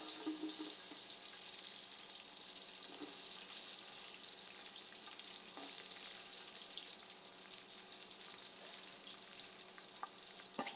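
Onions fry in oil in a pot over an outdoor fire, giving a soft, steady sizzle throughout with an occasional faint knock and one brief sharp click near the end.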